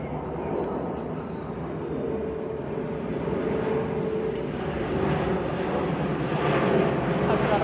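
A Turkish Airlines airplane passes over a backyard garden in Vienna, Austria, a steady low rumble that swells slightly toward the end, with voices faintly underneath.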